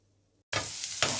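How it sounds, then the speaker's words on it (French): Onions hit very hot oil with a sudden loud sizzle after a silent moment, a dense close hiss that swells again near the end, with no voice. "Quand mon huile est bien chaude, je mets les oignons et je laisse revenir."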